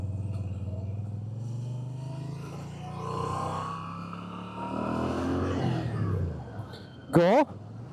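A 2026 Moto Guzzi V7 Sport accelerates on a test ride, its engine pitch rising through the gears under a rider's close, excited talk and wind noise.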